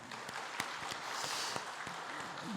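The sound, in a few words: applause in church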